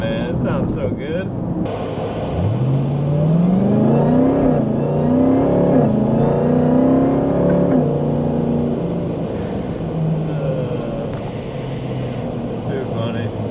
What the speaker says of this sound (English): Supercharger is whining, man.